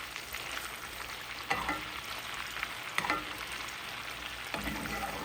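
Butter sizzling in a cast iron skillet with a steak, a soft steady crackle with occasional scraping or spooning strokes, fairly quiet and without talking.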